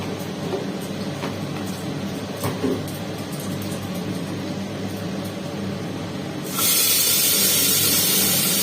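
A pressure cooker cooking fish in a home kitchen lets out a sudden loud, steady hiss of steam near the end, after a stretch of quieter kitchen background clatter; no one speaks.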